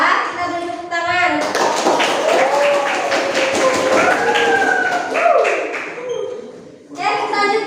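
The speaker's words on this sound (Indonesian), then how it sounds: "Kita beri tepuk tangan." Students clapping in a classroom after a group presentation: a few seconds of brisk, uneven hand claps in the middle, framed and overlapped by children's and a teacher's voices.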